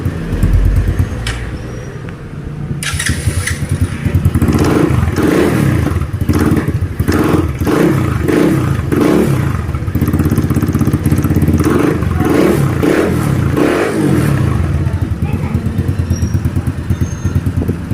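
A motorcycle engine runs steadily up close after repair of an engine noise following an oil change, with rhythmic mechanical pulsing and a brief dip before settling into an even, smooth idle.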